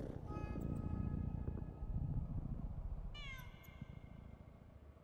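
A cat meowing in a video game: a drawn-out, fairly quiet meow over a low rumbling background, then a second, shorter meow a few seconds later, with no talking.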